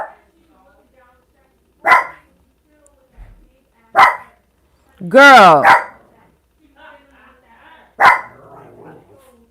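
A dog barks in sharp, separate bursts, roughly four of them a couple of seconds apart, one a longer yelping whine, while someone speaks briefly.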